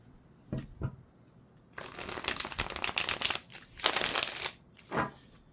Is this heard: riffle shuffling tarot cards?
yes